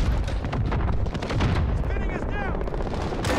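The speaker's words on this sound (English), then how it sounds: "Use your grenade launcher, it says hit B." In Modern Warfare, a grenade launcher blast and heavy gunfire land in quick succession, with loud booming impacts and rattling shots packed closely together while someone talks over them.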